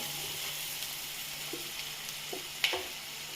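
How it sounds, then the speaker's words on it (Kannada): Mushroom gravy masala fries in a pan with a low, steady sizzle, punctuated by a few soft scraping stirs and a brief clink near the end, with no voices. "ಹಾಕಿ ಚೆನ್ನಾಗಿ ಫ್ರೈ ಮಾಡ್ಕೋಬೇಕು"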